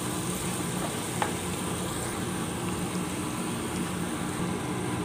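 A premixed soy, tomato and chili sauce goes into a frying pan of honey chili potato, and a steady, close hiss of sizzling continues throughout.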